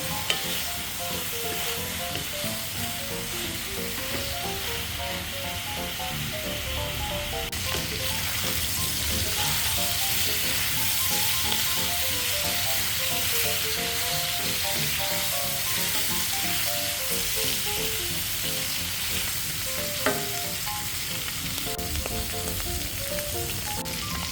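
Pork fat sizzles steadily in a frying pan as it renders out, a loud and continuous hiss with crackles that runs without pause, plus one sharp pop near the end.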